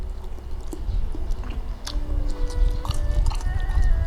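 Close, wet chewing of crunchy mushrooms in a Chinese-style beef and mushroom stir fry, with irregular bites and squishy crunches continuing throughout, no speech.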